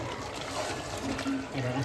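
Hot water pours and splashes into a pan of cooking chicken curry with a steady liquid rush, close by, while a voice speaks underneath.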